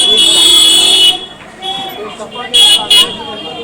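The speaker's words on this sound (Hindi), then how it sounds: "हॉर्न बज जाए" A loud vehicle horn blares continuously at close range, then two further short honks sound after a pause, amid crowd chatter and talk at a street election gathering.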